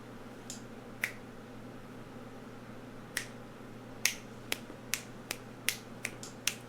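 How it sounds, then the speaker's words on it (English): Sharp finger snaps ring out one at a time, sparse at first and then quicker and more regular, loud and close over a quiet background hum, from the video game Fate/Grand Order. "Just like snapping my fingers"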